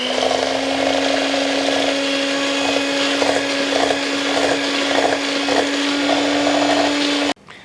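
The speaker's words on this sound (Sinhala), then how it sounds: "දැන් මම ටිකෙන් ටික බිත්තර එකෙන් එක එකතු කරලා මම මේක මේ බීට් කරගන්නවා." An electric mixer beats muffin batter as eggs are added one at a time, a loud steady whir with a constant hum and rhythmic pulses as the beaters work the bowl, cutting off abruptly at the end.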